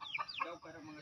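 Chickens clucking close by in a quick burst of several calls that rise and fall over a low background murmur.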